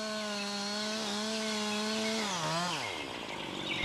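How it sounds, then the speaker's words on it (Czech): A chainsaw at full throttle cutting notches into a standing tree trunk, loud close engine whine holding a steady pitch, then dropping and bending as the chain bites into the wood. "uchopte pilu za přední rukojeť, přidejte plný plyn a řešte horní a dolní směrové zářezy jako předtím"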